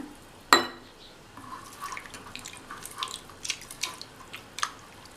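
Water is poured and stirred into a tomato-based kuzhambu mixture in a home kitchen, starting with a sharp splash and followed by scattered faint drips, clinks and liquid sloshing over a quiet background.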